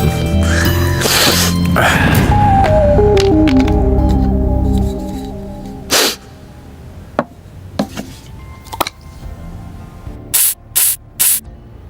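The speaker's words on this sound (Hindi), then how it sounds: "वो स्प्रे है पापा, स्प्रे। उसको सेंट बोलते हैं, लगाओ अच्छा लगेगा।" A perfume spray bottle fires several short, sharp hissing bursts close by, the quickest ones clustered in a rapid trio near the end after earlier tonal sounds and a few scattered clicks.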